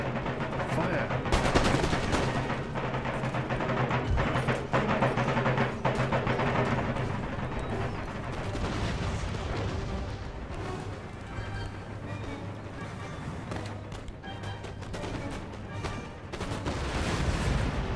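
Musket volleys and massed gunfire crackle continuously in an Empire: Total War battle, dense and loud throughout with heavier bursts near the start and a muffled voice faintly underneath.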